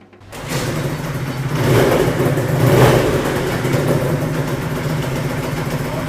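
A Kawasaki Ninja 150RR motorcycle engine fires up and settles into a steady rasping run, with a couple of swelling revs, close by and without talk.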